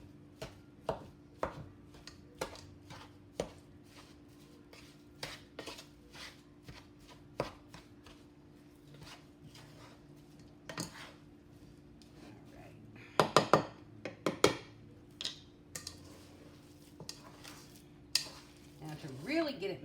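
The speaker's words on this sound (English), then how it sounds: "to really get it mixed good, we go in with our hand and just mix it all together" Food mixture in a bowl is mixed by hand with breadcrumbs added during meal prep, giving soft, irregular squelching and slapping taps up close, busier around the middle, over a low steady background hum.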